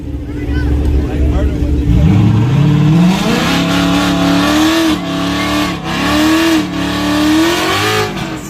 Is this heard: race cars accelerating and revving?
yes